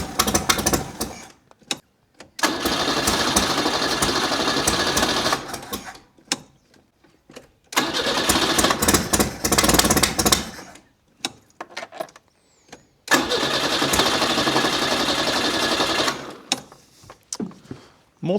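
A Renault 6 engine with a leaking exhaust cranks and runs in three rough, loud bursts of several seconds each, separated by short quiet gaps and clatters.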